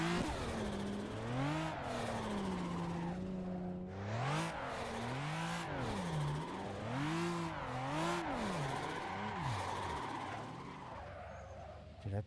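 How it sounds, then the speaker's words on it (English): Car engine in Assetto Corsa during a sim drifting session, revving and wailing in rising and falling sweeps with tire skidding, continuous and loud throughout with a turbo note layered in. "That's a turbo."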